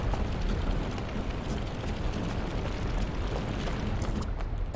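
Fireballs burst in the Hand of Fate video game as a dense, continuous roar of overlapping explosive booms and crackling fire that stays loud and steady throughout, with no talk.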